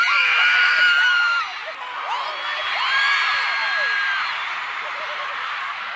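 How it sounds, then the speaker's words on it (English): Crowd at a concert screaming loudly, a dense sustained wall of high cheering and shrieks with a brief dip partway, then continuing at steady volume. "Everyone is screaming so loud."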